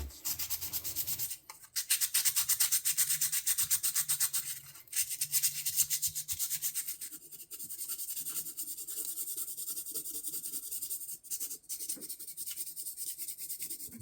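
A knife is hand-sanded with 400 grit sandpaper in steady back-and-forth strokes, giving a close, dry, gritty rubbing with brief pauses between passes.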